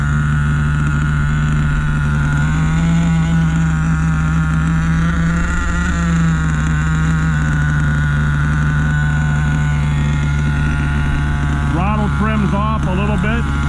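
A homemade truck engine idles steadily during its first start and break-in, a loud, constant low rumble with a faint whine, while people talk over it.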